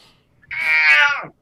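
A single loud, drawn-out meow from a cat, close and clear, rising then falling over about a second against near silence.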